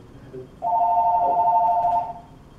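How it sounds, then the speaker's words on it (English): A phone rings indoors with a single steady electronic tone that starts abruptly and holds for about a second and a half before cutting off, loud and close over a quiet room. "I was not expecting a phone call right now."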